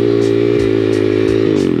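A dirt bike or pit bike engine revs loudly and steadily nearby while doing a donut, with a constant roar and slight rhythmic pulsing dips.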